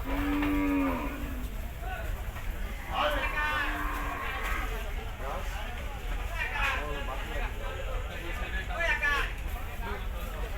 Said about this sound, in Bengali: বিশাল বড় সাইজের গরু